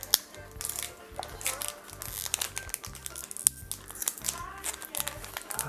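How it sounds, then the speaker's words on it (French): Tekken Card Tournament booster packs are torn open by hand, with steady crinkling and crumpling of the foil wrappers and occasional sharp rips close up, mixed with light handling noise. "on déballe les cartes booster de ce pack"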